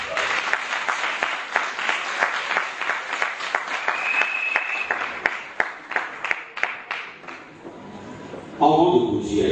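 A seated audience applauds at a business presentation, dense rapid clapping swelling and fading in waves for several seconds before settling near the end, where a voice briefly comes in.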